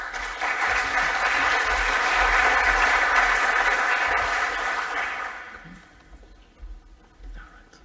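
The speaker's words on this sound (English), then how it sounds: "I never could understand why people clap before hearing a single word come out of the speaker's mouth" Audience applause after a speaker is introduced at an engineering talk, loud and sustained for about five seconds before fading into quiet room tone.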